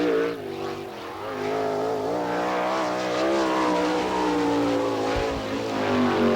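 A 305 sprint car engine roars steadily on a dirt race track at an All Star Circuit of Champions event, loud and close with a sustained droning, slightly wavering pitch.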